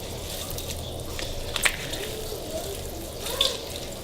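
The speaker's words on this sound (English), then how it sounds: "squeezing it with my hands, just trying my best to get all the water out of it" Cooked spinach squeezed by hand to press the water out, soft wet squelching and trickling liquid at close range, quiet with a couple of small splashes.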